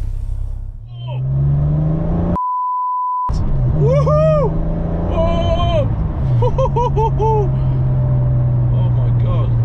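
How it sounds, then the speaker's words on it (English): A Ford Escort Cosworth driving, a loud steady engine drone from inside the car rising and falling with gear changes, with a beep bleeping out a voice and people speaking over it. "let's drive this Escort Cosworth a little bit up here, give it another little run and compare it with the 993"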